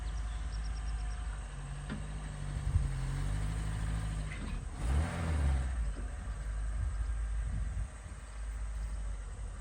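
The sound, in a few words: 1988 Ford Festiva car driven onto a boat trailer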